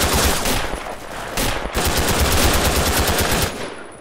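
Sustained machine gun fire in the World War II shooter Red Orchestra, with rapid loud bursts hammering almost continuously, one brief pause near the middle, then a long unbroken stream that cuts off abruptly at the end.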